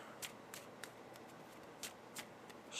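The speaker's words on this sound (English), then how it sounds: "Shuffle that pariah back in here." Playing cards being shuffled back into a deck give a quiet series of crisp riffles and slaps, about eight short bursts at an uneven pace, close by with no talking.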